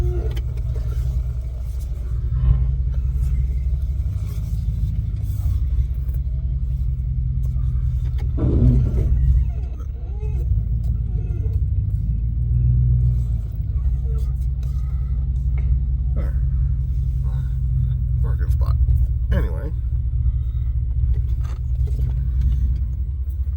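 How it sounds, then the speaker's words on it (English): A car is reversed into a parking spot, its engine rumbling low and steady with a brief rise in revs partway through, while a person talks over it. "See if I can get this stupid thing backed into my parking spot here."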